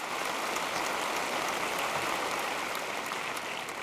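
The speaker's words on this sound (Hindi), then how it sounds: "तालियां हो जाएं." Audience at an awards show applauding, a dense, steady wash of clapping that sounds like heavy rain and holds evenly throughout, with no talking.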